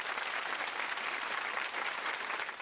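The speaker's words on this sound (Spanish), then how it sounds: "Aplausos enormes para usted, señora, y para todos los festejados en este día de hoy y de ayer." Applause for a mother and others being celebrated at a family gathering, steady continuous clapping from a group, fairly distant and soft.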